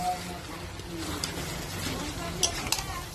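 Peas and potatoes are stir-fried in oil in a pan for ghugni, giving a steady close sizzle with scraping stirs and a couple of sharp utensil clinks near the end.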